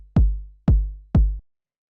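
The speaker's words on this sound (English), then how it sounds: "So this is just like a powerful kind of like 909 kick." Three deep, punchy 909-style electronic kick drum hits in a steady rhythm, each with a booming low tail that decays quickly, then silence.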